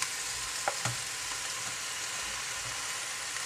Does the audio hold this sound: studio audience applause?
no